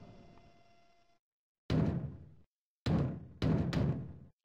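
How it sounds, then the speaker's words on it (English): Heavy banging on a door in the video game Conker's Bad Fur Day, loud booming thuds in separate bursts, one then a pause then two close together, after a quieter sustained tone. "Sounds like somebody's braying on the door."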